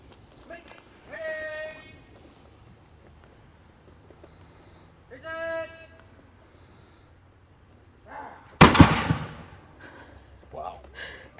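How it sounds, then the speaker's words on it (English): A single musket fires in a demonstration at Fort Mackinac, a sharp, loud blast with a trailing echo, after a few calm spoken voices and followed by murmuring bystanders. "So he's doing the musket firing demonstration."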